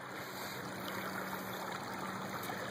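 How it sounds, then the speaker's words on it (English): Steady, even rush of water spilling over a small waterfall on Sandy Creek, a constant close wash with no breaks and no voices. "But here's this little waterfall I've been wanting to get out in behind."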